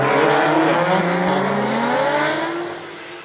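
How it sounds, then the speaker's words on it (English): Drift cars battling at Suzuka Twin during Formula Drift Japan Top 32, loud engines holding high, wavering revs close by as they chase, throttle pitch sliding down slightly as the sound fades. "So Yoshimura right here on the chase, while we got Imamaida in the lead right here"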